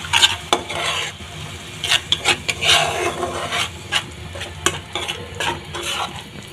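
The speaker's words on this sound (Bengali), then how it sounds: "এবার মশলাটা কষিয়ে নেব।" Spice paste of cumin powder, salt and a splash of water stir-fried in a pan for stuffed pointed gourd dorma, with repeated scraping spatula strokes over a steady close sizzle and no talking.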